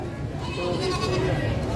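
A young goat kid bleats at a livestock market, a sustained wavering cry over crowd chatter and background noise.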